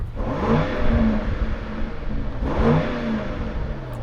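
A 2023 Range Rover Sport with quad exhaust tips revs outside the vehicle, two muffled blips about two seconds apart, each rising and falling in pitch over a steady idle rumble.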